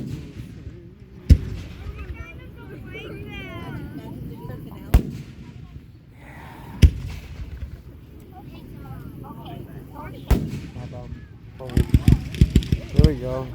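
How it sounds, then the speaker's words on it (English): Fireworks in Plainfield, Connecticut burst as several sharp, loud bangs spaced across the stretch, with a rapid cluster near the end, under frequent excited talk from nearby people. "That was lots of fireworks."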